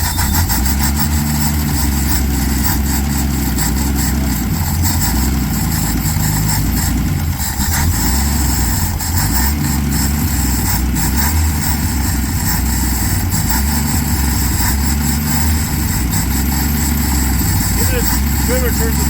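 The engine of a 1968 Dodge Coronet idles loudly and roughly nearby, a sustained uneven rumble that continues throughout, with people talking over it.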